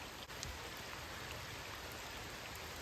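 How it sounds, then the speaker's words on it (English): Steady rain falls beside a small creek during a fishing outing, a constant, even hiss of drops close by with soft patters and no voices. "As the rain's starting to slowly pick up."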